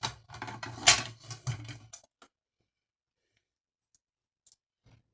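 Scissors snipping through material for a tutu, a quick run of close, crisp cuts for about two seconds before falling silent, with a couple of faint clicks afterward.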